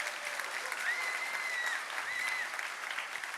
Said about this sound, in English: Give them a big round of applause for making this happen.